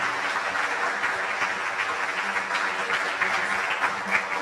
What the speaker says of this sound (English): Can you all rise and give them a round of applause as they move from the stage?